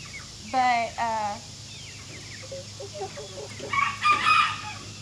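On a farm, a rooster crows twice in quick succession, followed by scattered soft clucking from nearby hens and another burst of crowing toward the end.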